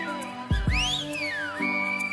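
A human whistler sends sliding, swooping tones in the whistled Silbo Gomero language of La Gomera in the Canary Islands, clear and close over a soft musical backing.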